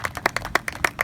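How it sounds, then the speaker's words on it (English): Audience applauding Dr. Subers at a Mount Soledad gathering, a very short run of sharp, distinct claps at a quick, slightly uneven rhythm, sounding like only a few people clapping nearby. "give Dr. Subers a round of applause for his service"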